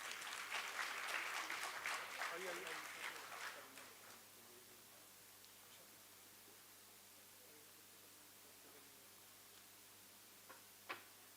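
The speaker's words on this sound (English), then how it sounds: "Can I please hear the claps again?" Audience clapping at a lawyers' parliament festival session honoring a Bar Council of Delhi guest, a moderate burst of applause for the first few seconds that fades out, leaving a quiet room with a couple of faint ticks.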